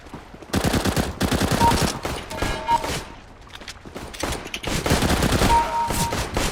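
Automatic gunfire in Counter-Strike: Global Offensive during the Hydra operation, dense rapid bursts of shots that keep coming for the whole stretch, loud and close.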